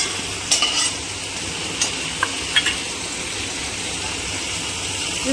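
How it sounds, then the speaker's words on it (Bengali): Whole garam masala and bay leaf fry in oil in a kadai for raw banana kofta curry, a steady soft sizzle broken by a few light spoon clinks early on, with no talking. "তেল দিয়ে দিলাম কড়াই, গোটা গরম মশলা দিলাম।"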